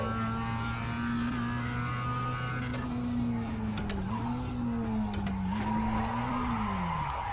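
Race car engine in iRacing, a sustained droning whine that rises and falls as the driver shifts and corners, with occasional brief tire squeals, steady and moderately loud with no talking.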